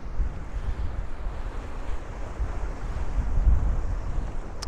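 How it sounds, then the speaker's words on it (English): Strong, gusty wind buffets the microphone while someone walks outdoors along a Brooklyn street and bike path, a constant loud low roar that swells and eases. "Right now, I am walking in some serious winds."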